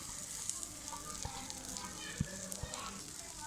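Onion is fried and stirred together with dal in a pan, a soft, steady sizzle under occasional scraping and knocking from the stirring, with a few sharper clicks; quiet and close.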